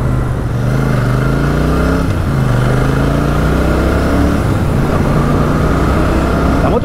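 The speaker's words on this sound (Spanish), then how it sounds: "La moto estira muy bien desde abajo," A Royal Enfield Super Meteor 650 motorcycle (2023) accelerates hard, its engine note climbing in pitch, dropping at each gear change, then climbing again. It is loud and close throughout, with no talking.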